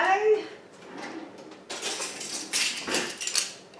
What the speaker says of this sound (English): getting some measuring spoons out